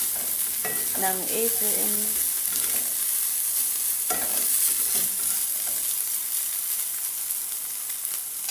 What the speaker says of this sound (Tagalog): Halo-halo lang para maluto siya